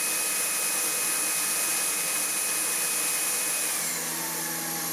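Buture Pro BP10 cordless stick vacuum cleaner running at maximum suction, a steady high-pitched whirring motor whine with a bright hiss, close and continuous, easing slightly near the end.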